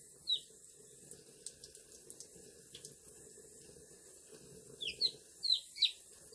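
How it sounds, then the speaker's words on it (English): A tap runs quietly while a baby chick with a pasted-up vent is rinsed under it, and the chick gives several high, sharp cheeps close by, mostly toward the end. "let me rinse her off just a little bit"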